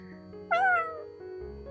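A single cat gives one short, clear meow up close, rising then falling, against a quiet background.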